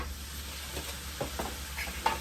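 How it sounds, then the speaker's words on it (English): Ground beef cooking in oil in a skillet, a low steady sizzle broken by a few soft scraping stirs, close by and fairly quiet, no voices. "We're going to cook the ground meat until it's no longer pink."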